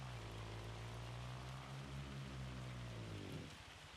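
Heavy in-game rain falls in Farming Simulator 25, a steady, dense hiss over a low droning engine hum that stays constant before easing slightly at the end.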